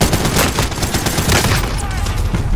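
Gunfire in a Call of Duty co-op match, a loud, dense volley of rapid shots running continuously through the moment.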